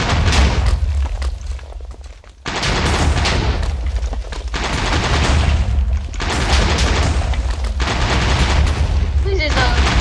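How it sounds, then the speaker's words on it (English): Rapid-fire tank shooting in the Minecraft Transformers mod, with dense, loud bursts of booming blasts that run almost continuously, broken by a few brief gaps, with game noise and a voice mixed in. "This is a rapid fire tank."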